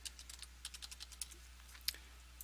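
Soft, quick keystrokes on a computer keyboard while entering a student's access ID and password into a school parent portal, a light irregular patter of clicks with a faint steady hum underneath.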